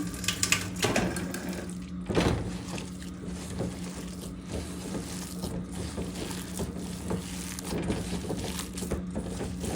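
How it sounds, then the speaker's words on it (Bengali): Water pours into a cooking pot over potatoes or chickpeas that have been coated with turmeric, chili and garam masala powder. It makes a steady splashing flow near the microphone, with a louder burst partway through and a low hum underneath. "পানি দিলাম"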